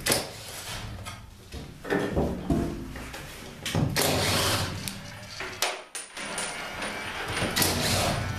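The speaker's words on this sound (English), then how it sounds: "Undo these screws like that." Screws being undone on a school bus window frame, quiet close scraping, clicking and rattling of a tool and metal parts, irregular and handheld, with room noise around.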